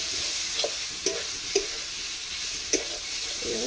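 Small, evenly sized boiled potatoes sautéing in a pan, an even sizzle broken by four or five sharp spatula taps and scrapes, close and without talk.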